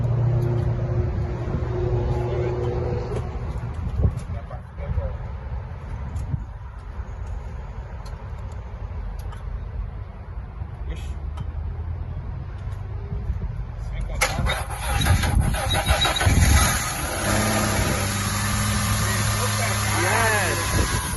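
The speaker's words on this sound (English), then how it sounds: "Let's try to start the car." A Ford Mustang 3.8 engine, just rebuilt with a new cylinder head, cranks and fires for its first start after a stretch of quiet shop noise, then runs loudly near the microphone while a person talks.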